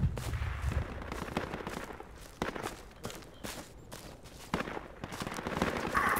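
Rifle gunfire in a World War II-style shooter during an attack on a barn, with sharp, loud cracks at irregular intervals mixed with more distant shots and shuffling movement, no talking.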